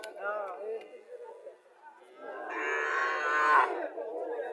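A Sahiwal bull calf at a busy cattle market lets out one loud, drawn-out moo in the second half, with voices chattering nearby before and after it.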